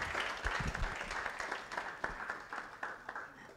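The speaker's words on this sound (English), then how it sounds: "Another round of applause for him." Applause at a registrar's office awards ceremony, a moderate crowd clapping steadily for a few seconds with irregular individual claps standing out, fairly close and without talk.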